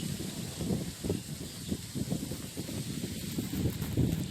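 Cold wind gusting and buffeting against a microphone, a low rumbling roar with rustling hiss, fairly constant with small surges.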